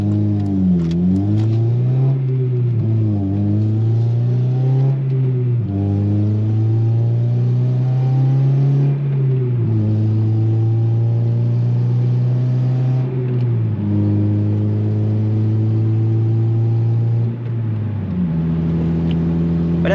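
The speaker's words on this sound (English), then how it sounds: "Let the car warm up a little bit before" A 2006 Honda Civic Si engine idling as it warms up, a steady close rumble whose pitch rises and dips several times with light revs, continuing without pause and with no talking.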